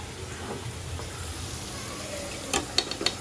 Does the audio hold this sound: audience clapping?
no